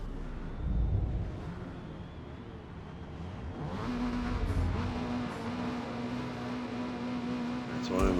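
Race start in Forza Motorsport with a Mazda 323 at Eaglerock: several car engines rumble and rev together, growing louder as the pack pulls away, with a steady engine drone through the middle and a brief sharper burst near the end.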